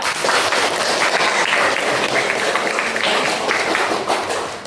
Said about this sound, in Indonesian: tepuk tangan untuk Gloria